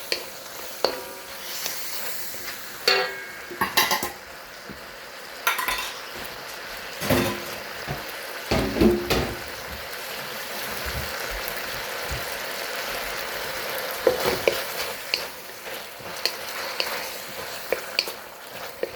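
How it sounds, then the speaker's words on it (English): Metal utensils scrape and clank against a wok over a soft sizzle of vegetables, with irregular bursts of tossing and stirring. "Alright, we'll keep on stir frying."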